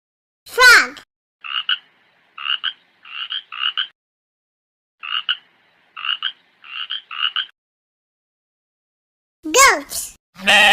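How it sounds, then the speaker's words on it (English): Frog croaking in eight short, evenly spaced bursts, clear and close, with a voice speaking briefly before and after. "Frog."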